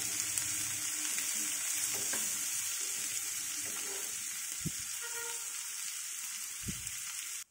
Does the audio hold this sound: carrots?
yes